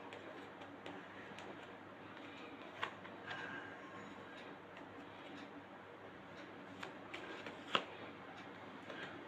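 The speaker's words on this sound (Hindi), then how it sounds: "एक शफल और करते हैं।" Tarot cards are shuffled quietly and steadily by hand, close by, with a few soft clicks and flicks standing out.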